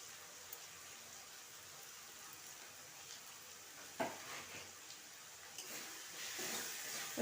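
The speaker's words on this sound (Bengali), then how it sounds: "ভালো করে কষিয়ে নেব।" Spices frying in oil in a pan for a Bengali rui fish curry: a low, steady sizzle with occasional stirring scrapes and a sharper clatter midway, quiet and close, no talking.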